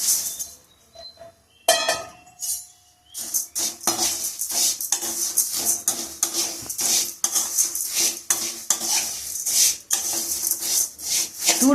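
Flattened rice (aval) dry-roasting in a kadai, with a quiet start and then a dense run of rustling, scraping and metallic clinks as a spoon stirs the flakes against the pan.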